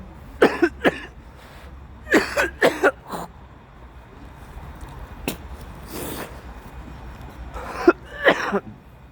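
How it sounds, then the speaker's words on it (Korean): Several short, harsh coughs in clusters, close by, with gaps of quiet between bursts. "아 기침이 너무 심해가지고"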